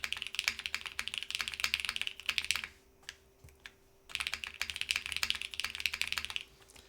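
Rapid clacking keystrokes on a mechanical keyboard fitted with PBT keycaps, close and steady in two bursts separated by a short pause with a few scattered taps.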